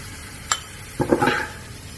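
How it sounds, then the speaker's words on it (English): Garlic toasting in hot oil in a pan gives a single sharp crackle, then a brief soft sizzling flutter. Both are faint and close. "I'm just going to lightly toast this garlic"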